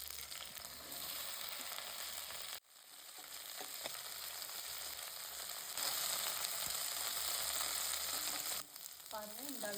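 Okra fries in coconut oil in a kadai, giving a soft, continuous sizzling hiss with a few brief stirring sounds, quiet and near.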